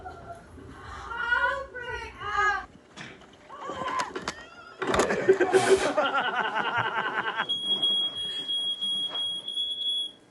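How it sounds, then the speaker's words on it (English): A smoke detector alarm sounds near the end as a steady, piercing high electronic tone lasting a few seconds. Before it, people talk and laugh loudly nearby. "Oh, those smoke detectors."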